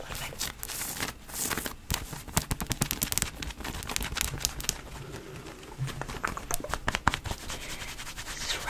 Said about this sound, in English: Shoulder, rubbing on this shoulder.